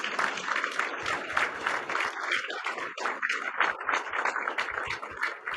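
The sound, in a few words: audience applause for Governor Kristi Noem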